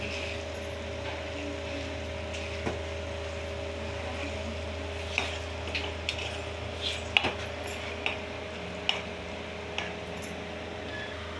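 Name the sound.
stirring beaten eggs with a spoon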